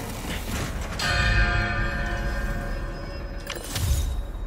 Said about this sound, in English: Now to ring the bell.